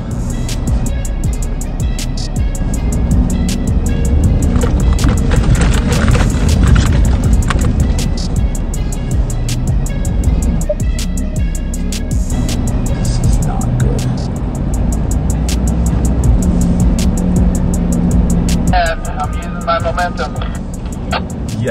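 A 4x4 truck tows an off-road camper trailer up an icy trail, with a steady engine drone, rattling and banging of the trailer, and occasional talk over the noise.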